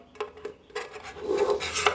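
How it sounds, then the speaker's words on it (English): A metal paint tin lid prised open with a paint tin opener, giving close, sharp metallic clicks and scraping clatter in short bursts, building to a louder rasping stretch near the end. "I'm going to be opening this paint tin with this paint tin remover."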